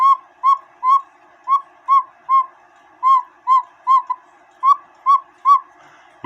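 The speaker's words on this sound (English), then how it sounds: "the more holes that you put in this bellow, you're going to change the sound of the bellow slightly" The bellow whistle of a one-day cuckoo clock under repair gives a string of about fourteen short, clear hooting toots in an uneven rhythm, close and alone, its tone altered by a thumb covering one of its holes.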